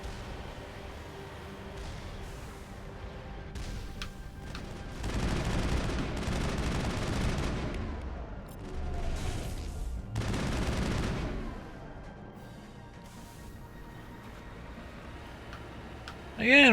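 The Mako vehicle firing in the Mass Effect video game: rapid ticking bursts of fire swell in two long stretches over a steady engine-like rumble, followed by a sharp loud hit at the very end.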